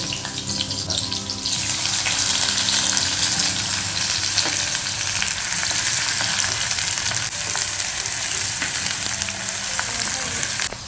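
Onions fry in a pan with a loud, continuous hiss and crackle that holds steady throughout, with faint scraping of stirring beneath it.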